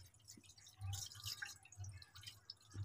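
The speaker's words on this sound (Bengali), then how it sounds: "এগুলো আমি এখন ধুয়ে নিচ্ছি।" Rohu fish eggs being rinsed by hand in water in a home kitchen, soft splashing and dripping sounds, faint and intermittent, with no talking.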